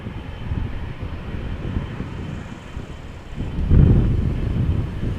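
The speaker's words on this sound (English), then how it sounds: "The first A330neo of the show lining up behind me right now." A Delta Airlines Airbus A330neo airliner lining up on the runway at Amsterdam Schiphol Airport: a low, steady jet rumble heard from outside with wind buffeting the microphone, swelling louder near the end.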